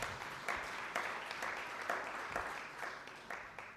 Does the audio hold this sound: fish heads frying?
no